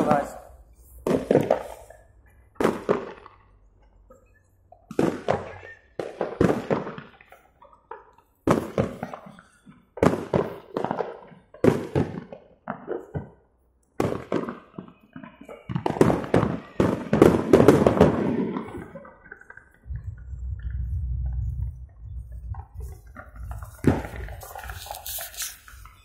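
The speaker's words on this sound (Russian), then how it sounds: "Хлопушки есть. Могу взрывать." Sharp pops and bangs of New Year's firecrackers go off in quick irregular bursts, loud and close, with voices talking and shouting between them.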